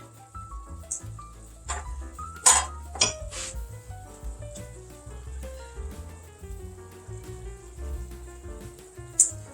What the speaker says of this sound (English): Let's add our garlic. Hamburger's good and browned.